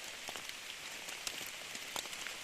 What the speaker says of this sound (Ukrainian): Ну такий дощик рясний пішов.